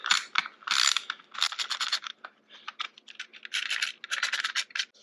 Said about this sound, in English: if I can reasonably tighten that without over torquing the plastic